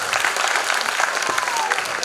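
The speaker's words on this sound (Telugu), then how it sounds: "చప్పట్లు" Audience clapping at a children's talent show, a dense burst of many hands applauding loudly and close, steady through the short moment with a hint of crowd noise.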